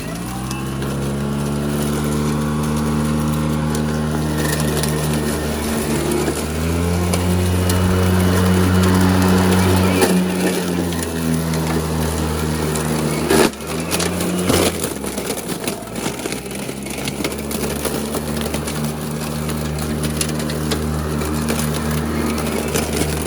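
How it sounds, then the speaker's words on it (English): Makita 36V cordless self-propelled lawn mower running steadily while mowing, a loud continuous motor hum with strong low harmonics that shift slightly in pitch as the load changes, with a brief thump midway. "So let's get in here and start mowing."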